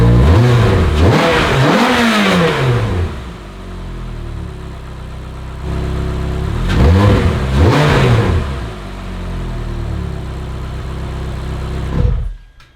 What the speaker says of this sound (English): let's blip the gas a few times